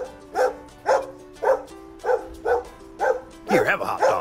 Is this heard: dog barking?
yes